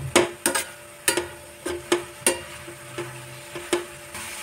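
A spoon or spatula stirs carrot, cabbage and capsicum in a pan for veg manchurian, about a dozen sharp scraping knocks in an uneven rhythm over a faint sizzle, close and with no talking.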